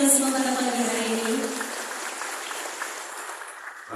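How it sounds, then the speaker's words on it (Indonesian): Ceremonial applause from a crowd at a morning assembly for Lampung's regional election, steady clapping that lingers and slowly fades, with a sustained tone from a voice or sound system audible at the start. "Boleh beri tepuk tangan yang paling meriah untuk kita semua pada pagi hari ini"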